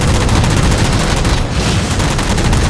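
Dense, loud gunfire blazes almost without pause in Halo 4 combat against jammers, a continuous wall of shots and blasts up close with only a brief dip in the middle.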